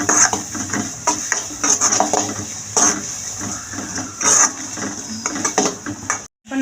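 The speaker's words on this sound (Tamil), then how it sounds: "பொடியாக கட் பண்ணி வச்சுருக்கிற வெங்காயம் சேர்த்துக்கிறோம். நல்லா ஃப்ரை பண்ணிக்கிறோம்," Finely chopped onions are stirred and fried in a pan for pav bhaji, with repeated scraping and clinking of a spatula against the pan over a soft background hiss, ending in a brief silence.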